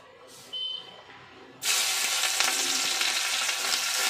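Chopped onion dropped into hot oil in a pan alongside a dried red chilli, bursting into a loud, close, continuous sizzle after a short quiet lead-in with a brief clink.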